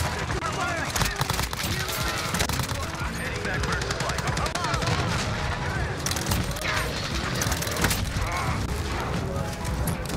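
Uzi submachine gun fire in the video game Modern Warfare, dense rapid automatic bursts amid explosions and mechanical clatter, with a player talking over the constant din.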